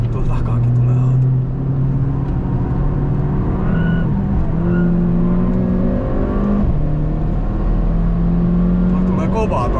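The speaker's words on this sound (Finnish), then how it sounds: "Tulee kovaa toi meidän takana toi auto." On a race track, a car accelerates hard behind the one carrying the listener. Its engine drone swells and shifts pitch under the steady roar of the cabin's own engine, while people talk throughout.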